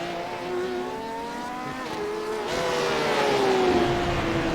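GTE and GT4 sports cars race at Okayama in a racing video game, several engines droning together with pitch rising and falling as they shift and corner, a steady loud mix with no talk.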